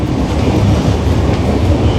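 Marusagar SF Express, the Ernakulam train, running on its tracks, heard from aboard as a steady loud rumble with a rhythmic clatter of wheels throughout.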